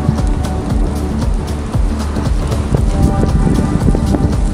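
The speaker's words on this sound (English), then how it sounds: "What's happening with the rain here?" Steady rain falling on a street in Glasgow, a dense continuous hiss with scattered brighter drop ticks, close and fairly loud throughout with no voices.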